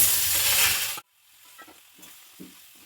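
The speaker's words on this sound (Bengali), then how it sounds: "ভাজা হয়ে গেল, এবার দিয়ে দিলাম আমি সবজিগুলো" Vegetables hit hot oil with a loud, close hiss for about a second, then the sizzle drops to a low crackle with scattered stirring scrapes and clinks.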